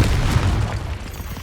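Confringo spell blast in the Hogwarts Legacy video game, a single loud, deep booming explosion that rolls and fades over a second and a half, with no talk.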